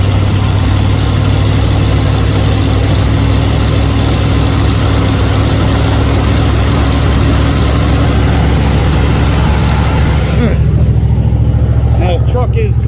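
A Dodge 360 TBI truck engine, cold, runs at a steady high idle with a constant loud low rumble; the sound cuts off sharply near the end, leaving a brief quieter tail.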